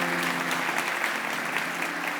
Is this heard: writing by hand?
no